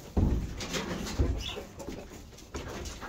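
Chickens cluck and squawk close by while being fed, with short bursts of fowl calls over a busy farmyard background.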